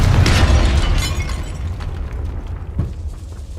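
A Confringo fire spell from the game Hogwarts Legacy goes off in a tomb as a loud, close blast that rumbles and crackles, then fades into a softer echoing tail with a small thump near the end.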